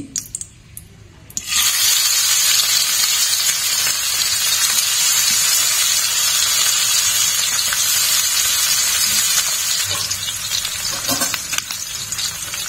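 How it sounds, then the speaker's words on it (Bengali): Small mourala fish dropped into a pan of hot oil: after a quiet moment with a few clinks, a loud sizzle bursts in and hisses steadily, with occasional clatters near the end. "এখন মাছটা আমি একটু ভেজে নিচ্ছি।"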